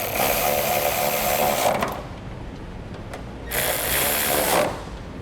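Power tool driving bolts into the latch handle hardware of a locking tailgate handle, running in two loud steady whirring bursts separated by a quieter pause, close up with no talking.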